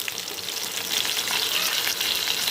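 Onions sizzle in a hot pan for chilli paneer, giving a dense, steady crackling hiss that swells slightly and holds at close range with no voices.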